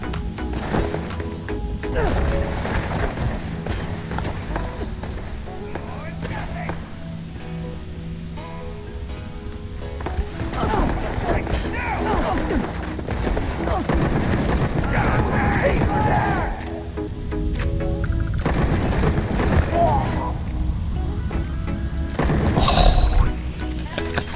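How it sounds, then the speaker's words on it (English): Grenade blasts and gunfire in the game Starfield, dense crashes, cracks and mechanical clatter running loud throughout, with a voice talking at times over the combat. "Throwing grenades at me."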